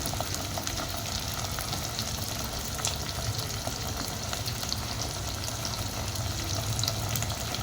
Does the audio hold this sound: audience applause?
no